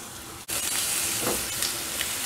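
Diced white onion dropped into a spoonful of hot cooking oil in a frying pan, giving a steady loud sizzle and hiss after a brief quiet start.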